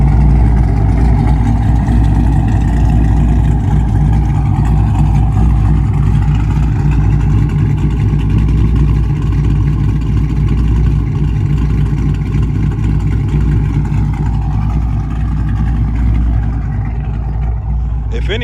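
Dodge Charger Scat Pack running on E85 fuel after a flex-fuel conversion, a loud, steady, rumbling idle with a choppy low-end lope that holds for the whole stretch, close to the car.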